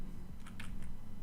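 Keystrokes on a computer keyboard as a command is typed, a short cluster of crisp clicks over a steady low hum in the room.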